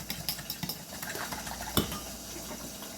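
A spoon stirs and scrapes garlic powder into food in a pot, with faint clinks of utensils against cookware and a low sizzle underneath in a busy setting.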